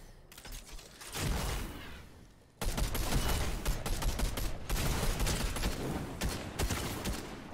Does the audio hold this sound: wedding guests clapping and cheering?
no